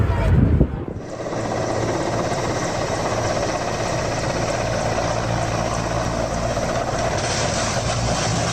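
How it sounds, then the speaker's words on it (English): A helicopter landing heard as a steady, loud engine and rotor drone that holds evenly throughout, with a brief louder low rumble at the very start. "The pilot managed to keep control and land the helicopter safely"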